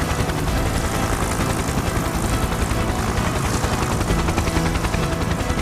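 A cartoon helicopter hovers overhead with a steady, dense, loud rotor whir that stays even the whole time, with no voices.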